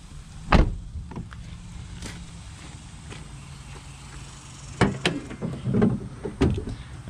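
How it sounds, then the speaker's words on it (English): Doors of a clean two-owner Chevrolet GMT800 pickup shutting, with a few solid thumps at about 0.5, 2 and 4.8–6.5 seconds, heard close over quiet outdoor background. "the doors just shut so good on this thing"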